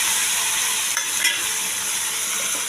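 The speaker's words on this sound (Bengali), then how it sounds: "এবার আমি দিয়ে দেবো এই আদা, রসুন আর পেঁয়াজের পেস্টটা। ওই তেলেই আমি ছেড়ে দিচ্ছি।" Ginger, garlic and onion paste frying in the oil left after frying prawns for chingri malaikari, a steady close sizzle and hiss with a couple of brief spatters, no voices.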